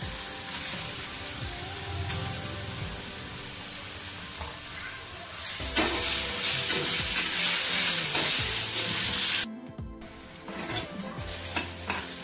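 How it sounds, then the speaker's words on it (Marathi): Grated potato with a chopped chilli and coconut masala, stirred in a generous amount of oil for a fasting thalipeeth: steady close sizzling frying with repeated scraping stir strokes, louder in the middle, then a brief drop before resuming. "बघा अशा पद्धतीने बटाटा हलवून घ्यायचा आहे"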